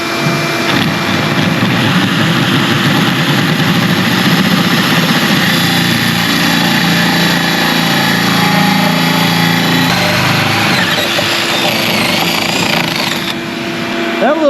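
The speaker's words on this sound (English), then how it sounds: "That little Makita 90 degree, by the way, that thing works great for doing this kind of work" A Makita 90-degree right-angle drill bores through boat material with a hole saw, giving a steady, loud, continuous grinding whine that holds through the clip, with a brief change in pitch near the end.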